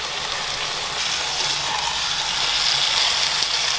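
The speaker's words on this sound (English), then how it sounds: "Try to sear the sides." Pork loin sears in a hot pan with a steady, dense sizzle, bright crackling hiss holding loud and even throughout, no voices.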